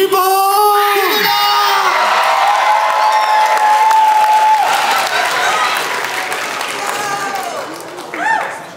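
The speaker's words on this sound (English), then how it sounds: "Round of applause for T-Bone!" Audience applause with whoops and cheers at a fursuit dance competition as the last dancer is called up, a loud steady crowd wash with shouted voices and a speaker talking over it.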